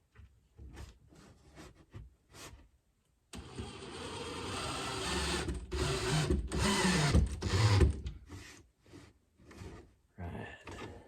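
A power drill drives 1 1/4 inch construction screws into an overhead cabinet inside a Ford Transit Connect camper van, with several loud whirring bursts separated by knocks and handling clatter, all fairly close.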